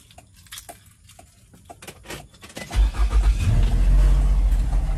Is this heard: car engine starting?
yes